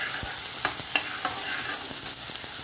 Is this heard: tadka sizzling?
yes